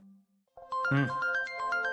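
A phone ringtone plays a bright, tuneful electronic melody after a brief low hum and a short silence, close and clear.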